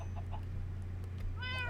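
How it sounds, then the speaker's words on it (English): Orange cat in the game Minecraft, meowing: a short, clear meow near the end over a steady low hum, with faint earlier mews and no talk. "I keep getting all these orange kitties."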